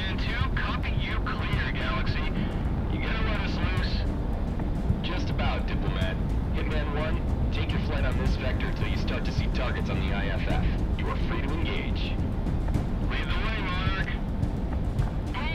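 Aircraft in flight in the Project Wingman VR game: a steady, full engine and wind roar runs throughout, with speech-like radio chatter over it in bursts.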